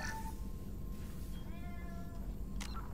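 A domestic cat meows a couple of times close by, short tonal cries rising and falling over a steady low background hum from a Mass Effect 2 game session.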